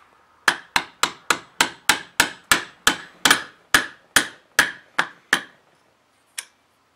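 A small tape-wrapped hammer taps sharply about fourteen times in a quick, even rhythm, tapping a part into an AR-308 rifle lower receiver, followed by a pause and one last tap.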